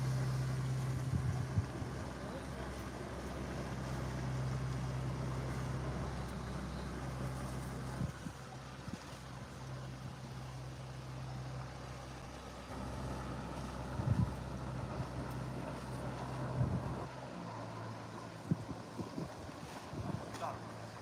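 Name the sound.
boat passing on river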